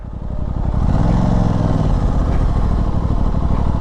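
A motorcycle engine revs loud and close while a rider practises wheelies from a dead stop, with a steady throaty drone rising over the first second and holding high.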